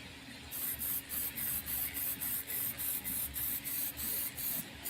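Coating is sprayed onto a copper head gasket inside a box with a flap, heard as a steady series of short, evenly spaced hissing spray bursts, close and fairly quiet, with no voices.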